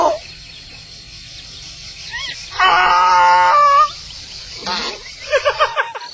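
A person imitates a donkey's bray with a series of loud, close, strained vocal honks. One long drawn-out call is followed by shorter choppy bursts, with quiet gaps between them.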